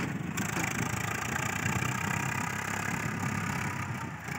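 A Swaraj 744 FE tractor engine idles steadily with a continuous low rumble, close and loud throughout, with no talk over it.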